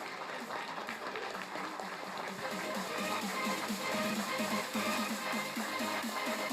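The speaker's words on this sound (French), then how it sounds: "on leur fait un tonnerre d'applaudissements" At an awards ceremony for a 2023 competition, an audience applauds the three winning teams. Moderate, dense clapping grows louder and takes on a rhythmic, unison beat in the second half.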